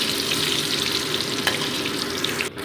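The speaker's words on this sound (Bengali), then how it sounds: "কড়াইতে সর্ষের তেল গরম বসিয়ে আমি আলুর টুকরোগুলো গোল্ডেন ব্রাউন করে ভেজে দিচ্ছি" Potato pieces frying in hot mustard oil in a kadai, a dense, continuous sizzle that stays loud and even throughout, with no talking.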